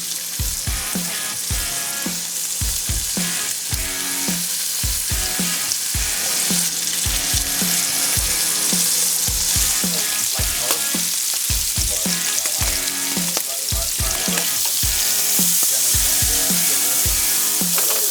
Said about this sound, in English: You want a nice sizzle.